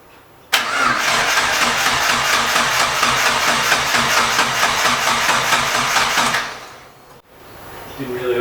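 A forged BP car engine cranks on first start, a close, loud and steady starter churn with rapid rhythmic pulses that runs for about six seconds, then fades and stops.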